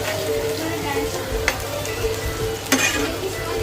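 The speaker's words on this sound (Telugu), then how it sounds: "స్టవ్ పై ఒక లాయి పెట్టుకొని కొద్దిగా ఆయిల్ వేసుకొని ఈ ముక్కలనే ఫ్రై చేసుకోవాలి" Pieces of amaranth-leaf liver fry cook in a little oil in a pan on the stove, giving a steady close sizzle with a couple of faint scraping stirs and no speech.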